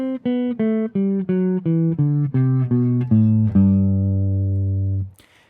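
A clean guitar plays a steady descending major scale, one plucked note at a time, ending on a long ringing low note that fades out.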